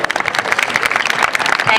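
A school debate competition audience applauds the participants, dense sustained clapping from a crowd, close and loud, with a voice speaking over it.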